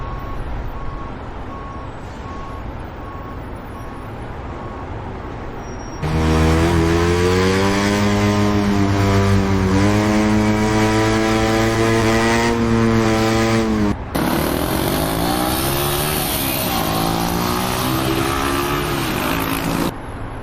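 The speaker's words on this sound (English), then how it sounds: "Enjoying the motorcycle drive?" Loud engine revving from racing motorcycles on an open road, a steady drone that jumps sharply louder as revs climb, with rising and falling pitch sweeps through gear changes and no talk.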